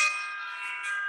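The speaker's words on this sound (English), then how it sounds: "We were having doorbells or something going on behind you." A bell-like electronic chime sustains for about a second in the background, a steady ringing tone with bright overtones and a slight swell near the end, no voices over it.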